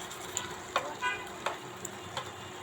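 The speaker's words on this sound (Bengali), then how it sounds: "এবার আমি কলিজাটা দিয়ে দিব।" Potatoes for goat liver bhuna sauté in a pan, a constant close sizzle punctuated by repeated spatula scrapes and taps at an uneven pace.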